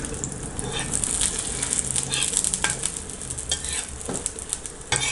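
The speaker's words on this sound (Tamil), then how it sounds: "இப்போ தவா காஞ்சிருச்சு, நம்ம ஊற்றிக்கலாம்." Egg mixture sizzles steadily on a hot tawa, a loud, dense crackle with scattered sharper pops and light stirring scrapes, close by and without voices.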